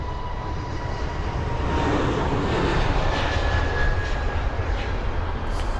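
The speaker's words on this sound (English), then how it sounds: "That's the Airbus A320neo with BA." British Airways Airbus A320neo jet at Heathrow, a loud steady engine roar that holds throughout with a broad rushing wash, close and continuous with no talk.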